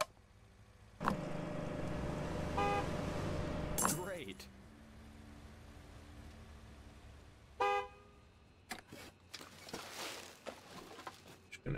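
Car horns in the Gas Station Simulator video game: a sustained honk, then a few shorter toots later, amid clinking glass, game sounds and someone talking.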